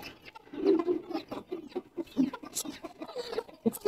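Four newly hatched black chicks cheep and peep in quick, bright, overlapping chirps, close by and fairly soft, with scattered clucking-like calls throughout.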